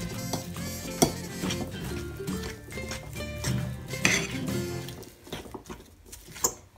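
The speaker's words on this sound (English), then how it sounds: "So mix it nicely." Sausage roll filling is stirred in a pan, a quiet scraping and tapping of a utensil against the pan with a few sharper clinks, close and soft.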